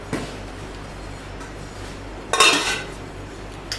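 The metal lid of a 24 cm KIAM Classic all-aluminium kadai with metal handles is handled, giving a few sharp metallic clinks and clatters. There is one light tap at the start, a louder rattle in the middle and a final brief clink, with quiet gaps between.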